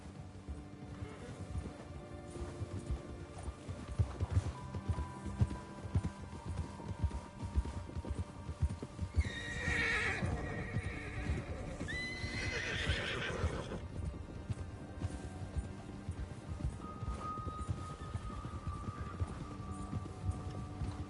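Galloping horse in Red Dead Redemption 2, hooves drumming steadily under a dense game soundscape with music, a whinny or two breaking through midway and a rider's shouts.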